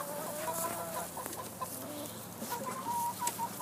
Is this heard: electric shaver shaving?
no